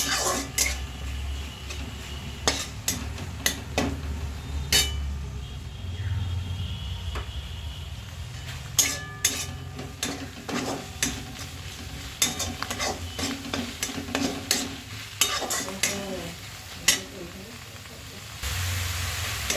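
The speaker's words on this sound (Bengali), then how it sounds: "পেঁয়াজ রসুনের সঙ্গে গুগলিগুলোকে আমি খুব ভালো করে ভেজে নিচ্ছি" Snails frying with onion and garlic in a pan, with repeated sharp scrapes and clacks of the spoon against the metal over a low sizzle and some background voice.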